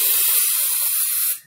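An aerosol spray can sprays adhesive onto the back of a machine-embroidered felt doll, giving a steady, close, loud hiss that holds evenly for over a second before cutting off.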